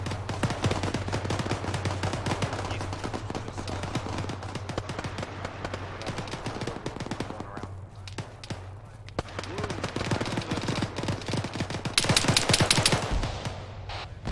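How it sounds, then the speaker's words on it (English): Rapid automatic gunfire and scattered shots in the ArmA 3 military game, dense continuous bursts throughout with a louder cluster near the end, with radio-style talk underneath. "there is shots coming from straight south of my position"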